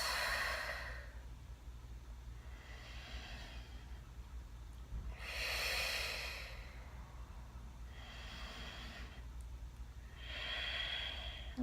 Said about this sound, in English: Breathing through your nose or mouth.